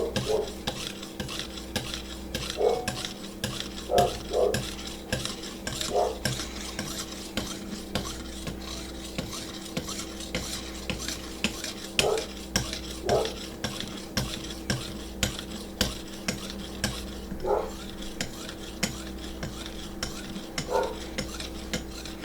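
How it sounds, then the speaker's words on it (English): Custom knife steel is polished on Vipersharp lapping film, with soft repeated scraping strokes and faint light clicks in a quiet room, close and fairly gentle. "polishing up that steel pretty well"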